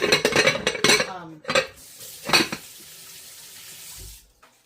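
A kitchen tap runs while hands are washed after cooking a chicken, wild rice and farro dish, with a few sharp clatters of dishes first, then a steady stream of water for about two seconds before it stops.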